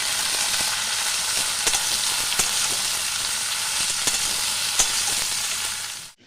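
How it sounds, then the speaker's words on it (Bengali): Ridge gourd with green chillies sizzles in hot oil for jhinge posto, a constant close hiss dotted with sharp clicks of a utensil stirring the pan, cutting off abruptly at the end. "ঝিঙে বন্ধুরা আমি অল্প করে নাড়াচাড়া করে নিয়েছি"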